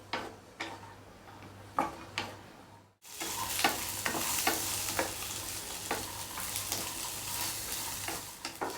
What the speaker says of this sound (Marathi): तोंडली छान अशी भाजून घ्यायची